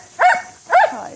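Two loud, close barks from a black dog at play indoors, evenly spaced about half a second apart, with a short whine trailing after the second.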